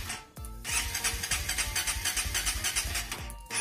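A motorcycle engine immobilized by an alarm cranks repeatedly without catching, with a steady rapid chugging of the starter that follows a brief click and runs for about three seconds, close and fairly loud.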